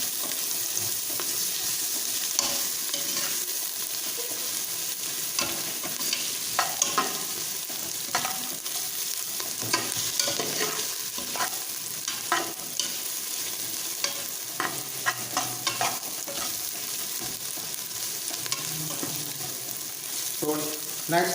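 Ginger garlic paste frying and being stirred in a pan while making vegetable biryani, with a steady close sizzle and repeated scraping stir strokes throughout, no talking.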